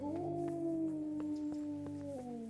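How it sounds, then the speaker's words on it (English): A dog in the Kingdom Come: Deliverance video game howls in a long, wavering, sliding tone, with faint clicks and ambient noise beneath, nearby and fairly loud. "Oh, shut up, dog."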